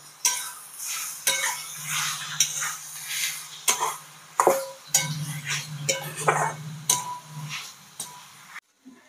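Kunjara greens wilt down in a kadhai as a spoon stirs and scrapes against the metal pan in a run of irregular clinks and scrapes, with a soft sizzle underneath, close and fairly loud.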